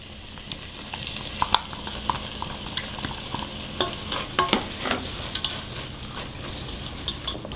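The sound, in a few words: sautéing cabbage stew ingredients in a pot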